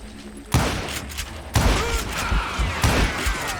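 Rifle shots in the Western shooter Call of Juarez: Gunslinger: three or four loud, close cracks a second or so apart, each with a short ringing tail, over quiet game ambience.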